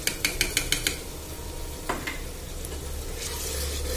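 Ginger garlic paste frying with softened onions in a pan gives a steady close sizzle, with a quick run of sharp metallic taps and scrapes from a spoon on the pan at the start and a few more clinks later.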